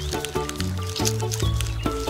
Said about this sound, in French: C'est un écureuil.